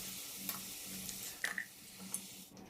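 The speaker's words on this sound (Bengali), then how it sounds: "এরপরে আমি আলুটা ভাজবো।" Potatoes fry in oil with salt and turmeric, a quiet steady sizzle broken by a few soft stirring scrapes and light taps against the pan.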